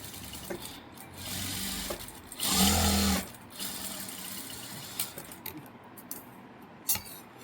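A sewing machine stitches a blouse neckline in one short, steady burst of whirring lasting under a second, set among quiet handling noises and faint background sound.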